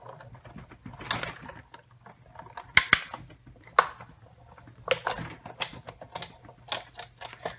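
Big Shot die-cutting machine being hand-cranked with cutting plates stacked on a platform: uneven mechanical creaks, clicks and ratcheting bursts, close and fairly quiet, with a sharp snap near the middle.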